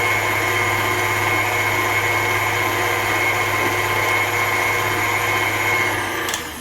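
An electric mixer beats powdered sugar frosting with a steady, loud motor whine that holds evenly and then eases off at the very end.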